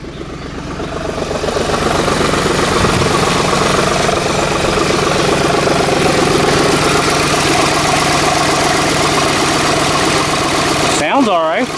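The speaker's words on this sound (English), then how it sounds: "we'll let it idle just for a little bit" A Ford F-150 4.6 engine with a suspected bad coil idles at about 1,000 rpm with a steady, rough mid-low drone that builds in the first seconds and holds constant, ending with a brief squeaky noise.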